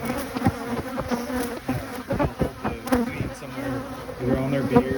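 Bees swarm around a beehive, their close, steady buzzing drone rising and falling as individual insects fly near the microphone.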